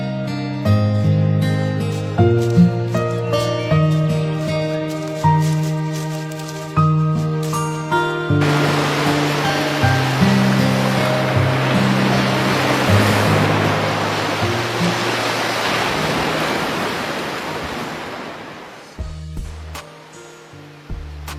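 Sea waves break on a shore in a steady, full wash of surf that rises and fades, following an opening stretch of music and giving way to music again at the end.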